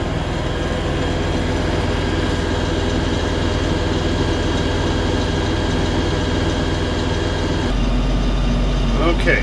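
An LS XR4140HC tractor engine holds a steady, loud diesel drone at 540 rpm PTO speed while raking, running continuously up close with a slight shift in tone near the end.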